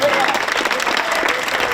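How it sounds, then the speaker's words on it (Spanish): Audience applause at a neighbourhood festival's motorcycle gymkhana prize-giving, many hands clapping steadily at a strong level with voices mixed in. "Otro aplauso porque no lo había oído"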